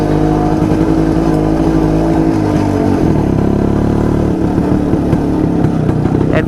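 A loud old Jawa Yezdi D250 two-stroke motorcycle engine runs steadily with a rough, throbbing idle, revving up and down a few times; no voices.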